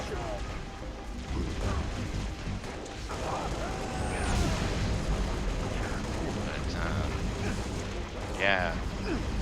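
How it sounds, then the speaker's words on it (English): Heavy battle noise in Halo Reach: dense rumbling gunfire and crashing explosions in a continuous loud barrage, with occasional sharp bursts and voices mixed in. "Heavy fire in my position."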